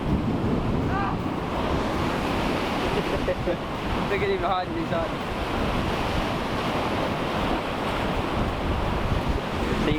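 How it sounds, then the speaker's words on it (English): Large ocean waves crashing and surging on a rocky shore, a continuous loud roar of surf mixed with strong wind buffeting the microphone, while people talk briefly over the noise. "Look at the size of this wave."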